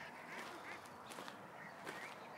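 Ducks quacking, several calls scattered across a short stretch, moderately close against a steady outdoor background.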